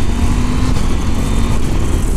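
Husqvarna Norden 901 motorcycle accelerating under a quick shifter, a loud steady engine roar heard close and alone, with a slight change in tone partway through.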